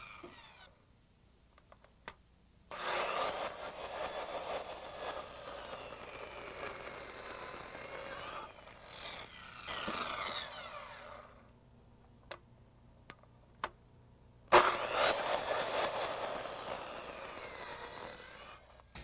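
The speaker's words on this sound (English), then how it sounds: "The 6x6 will take 4 cuts, 1 on each side, since the saw blade isn't big enough to get through it in one pass" A power saw cuts into a 6x6 wooden deck post in several separate passes, each a loud, rasping whine lasting a few seconds. Quieter gaps between the cuts hold faint ticks and clunks.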